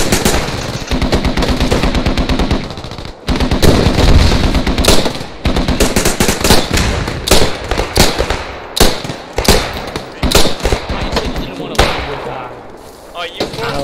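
Rapid, sustained bursts of carbine gunfire in the Post Scriptum war game, loud and close, firing continuously across the whole stretch with brief pauses, while players talk over the shots.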